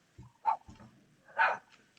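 Dogs bark outside beyond an open window, a few separate barks and yelps spaced irregularly over two seconds, fairly distant and moderately loud, with no talk.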